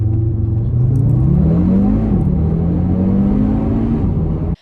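A 2021 Hyundai i30N hot hatch accelerates hard, its exhaust droning louder as the engine note climbs through a gear, dips at a shift and rises again before cutting off abruptly.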